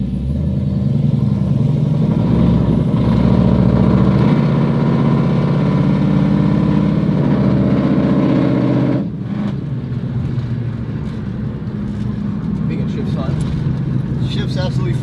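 A 1966 Ford Mustang barn find with about 400 horsepower drives along a bumpy small road, its engine droning loudly and steadily, then dropping in pitch and level partway through as it shifts.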